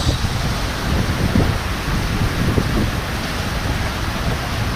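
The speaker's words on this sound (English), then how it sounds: "The rain got progressively worse" Heavy rain pours down in Castries, St Lucia, a loud, steady wash, while low rumbles of thunder roll through near the start and middle, with no voices.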